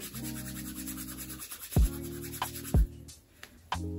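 A synthetic faux loc is rubbed between the fingers, making soft close scratchy friction in short strokes, with a few sharp taps and bumps in between.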